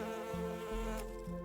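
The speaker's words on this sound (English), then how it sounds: "plants can sense the sound of a bee's wings" A bee's wings buzz with a steady, close droning hum that shifts pitch slightly a few times over a brief moment, with no voices.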